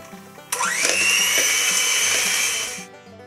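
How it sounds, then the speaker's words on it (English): An electric hand mixer whirs up sharply, beating cream cheese in a bowl with a steady high-pitched motor whine, close and loud, for a couple of seconds before switching off. "you just want to get your mixer again or beat it with a spoon and mix it so it's very, very creamy and soft"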